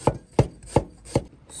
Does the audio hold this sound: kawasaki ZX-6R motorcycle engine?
no